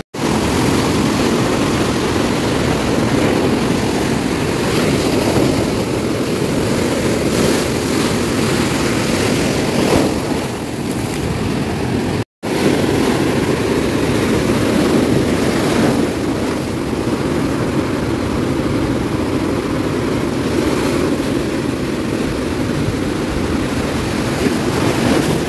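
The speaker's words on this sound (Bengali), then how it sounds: "উত্তাল সমুদ্র একদম পায়ের কাছে" Rough, storm-driven sea waves crash continuously onto Tajpur beach close by, a loud steady roar of surf mixed with wind buffeting, with one brief dropout midway and no talking.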